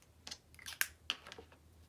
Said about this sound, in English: Then taking your scissors,